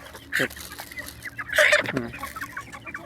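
A native Indonesian kampung chicken clucks a couple of times nearby, short throaty bursts over a quiet background.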